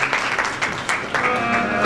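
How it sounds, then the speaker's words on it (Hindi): A church congregation gives a short burst of applause for children, a dense wash of clapping that lasts under two seconds with a faint hint of voices beneath it. "जोरदार तालियां बच्चों के लिए।"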